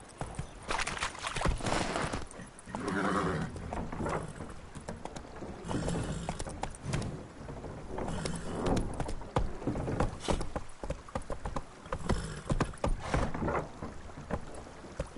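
Roach the horse gallops in The Witcher 3 with a continuous rhythmic clatter of hooves, close and fairly loud, carrying through the whole stretch along with wind-like rushing.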